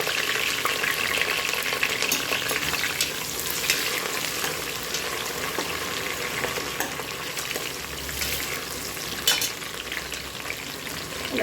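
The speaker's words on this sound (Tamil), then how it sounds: "புதினாவையும் வெங்காயத்தையும் போட்டுக்கலாம் இது நல்லா வதங்கட்டும்" Mint leaves and onions sautéing in a hot pan alongside cinnamon and cloves, a dense continuous sizzle heard close up with occasional stirring scrapes, steady in loudness and free of talk.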